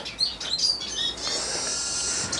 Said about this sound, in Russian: Аж птицы запели.